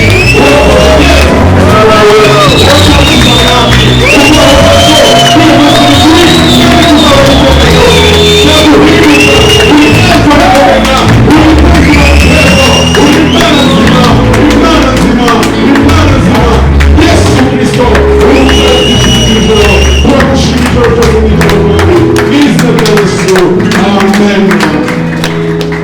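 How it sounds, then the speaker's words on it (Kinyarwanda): A church congregation ululates and claps, filling the space with loud, dense sound. Shrill, wavering trills rise repeatedly over steady clapping and shouting for the whole stretch. "itorero rikuvugisha impundu kandi tuguhaye amashyi"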